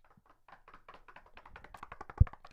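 A run of rapid, light taps and knocks on a wooden surface, irregular and close, building to one sharp louder thump near the end, with no talking.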